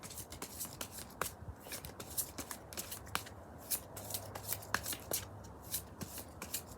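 Oracle cards of fantastic creatures being shuffled by hand, a steady stream of soft papery riffles and flicks close to the ear, with no talk over them.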